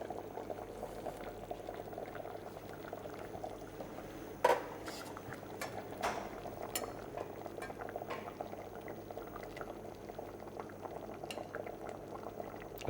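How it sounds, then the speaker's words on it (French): A stew (ragoût) gently simmering in a covered pot, a steady low bubbling throughout, with one sharp metallic clink of a utensil against the pot partway through. "et laisser cuire à frémissement."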